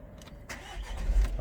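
Cold Renault Trafic van engine turning over and settling into a low, steady running rumble, close by.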